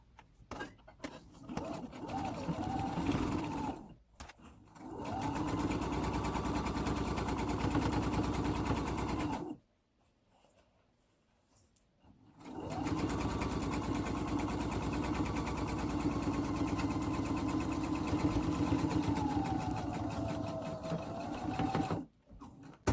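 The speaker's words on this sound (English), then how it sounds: "we're just going to top stitch to hold the fabric in place and to give a more finished look to the top of the bag" A sewing machine top-stitches fabric along the top of a bag in long, steady whirring runs, broken by short pauses and one longer silent gap. It is close and alone, with almost no talk.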